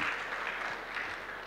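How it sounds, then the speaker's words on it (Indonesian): A crowd at an Indonesian anti-drug talk show in Banyuwangi claps in a steady, dense wash of applause, moderately close and unbroken for the whole moment. "Tepuk tangannya yang keras sekali."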